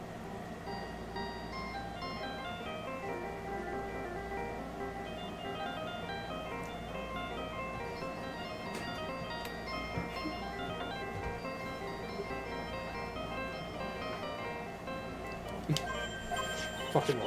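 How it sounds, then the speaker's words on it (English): Phone ringtone playing a samurai theme song, a steady repeating electronic melody with ticking beats, running quietly under faint talk for many seconds. "I don't like the sound of this ringtone right now"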